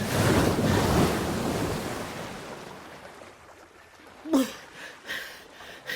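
Heavy ocean surf from a violent windy storm roars loudly at first, then eases into softer rolling waves with a few sharp gusts and splashes as it fades.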